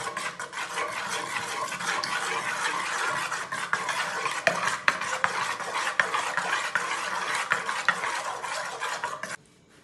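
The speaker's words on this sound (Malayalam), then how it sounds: "നന്നായി നമുക്കിതൊന്ന് കലക്കിയെടുക്കാം" Ten beaten eggs with sugar are whisked briskly in a bowl for vettu cake, producing rapid, rhythmic clinking and sloshing strokes that run steadily at close range, then stop abruptly at the end.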